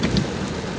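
Heavy rain pours steadily with a low thunder rumble underneath, a dense, loud hiss throughout the brief moment.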